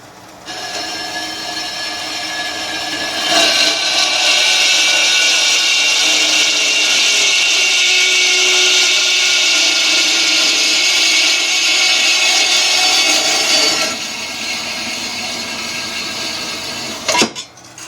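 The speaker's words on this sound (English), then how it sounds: "I have to cut a few pieces of steel to length for crossbars" 1x2-inch thin-wall steel tubing with light surface rust is cut to length for roadster chassis crossbars by a power saw, giving a loud, steady, whining grind for about ten seconds that ends with a short clatter.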